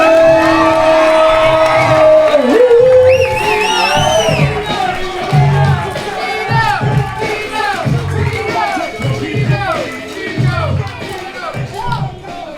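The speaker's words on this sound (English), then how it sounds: "Give it up, please, for Simon" Crowd at a bar mitzvah party cheering, whooping and clapping in a loud, continuous wash of excited voices, with rhythmic thumps beneath and a lively, reverberant room feel throughout.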